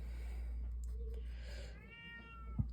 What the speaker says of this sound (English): he was just sitting there meowing